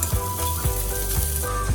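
Cashews, poppy seeds and coconut dry-roast in a pan over a medium flame. A steady close sizzle runs through it, with periodic scraping strokes as they are stirred.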